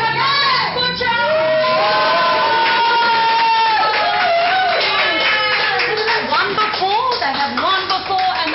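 A crowd cheers, whoops and claps loudly and continuously at a Best Butcher award presentation on the Gold Coast, with excited shouting voices layered over the applause.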